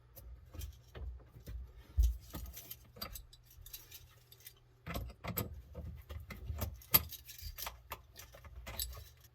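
A metal wrench is picked up and handled under a kitchen sink during a garbage disposal install, giving a string of close, sharp metallic clinks and light rattles with quiet gaps between them.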